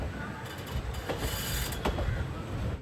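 A train rolls into platform 4 at Shoranur Junction station, a steady rumble of wheels and wagons with a few sharp metallic clicks and squeals over station ambience.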